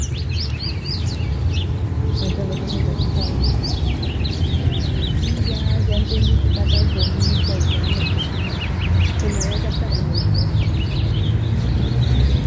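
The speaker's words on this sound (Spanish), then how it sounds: "¿Cómo se escuchan los pajaritos?" Many small birds chirp and tweet continuously over a dense, steady background hum, their high calls overlapping throughout.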